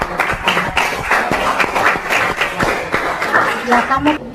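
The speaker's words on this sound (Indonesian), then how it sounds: "Oke, beri aplaus untuk teman kita." Classroom students clap for a classmate, a scattered, uneven patter of hands with a voice talking over the applause.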